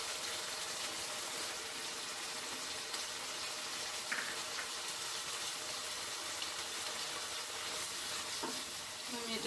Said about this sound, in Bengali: আমি এটাকে ভালো করে মিক্স করে দিব, নেড়ে ছেড়ে ভালো করে মিক্স করে দিতে হবে।